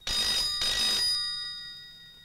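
A telephone bell rings loudly in two quick bursts, then the tone rings out and fades away. Nobody speaks.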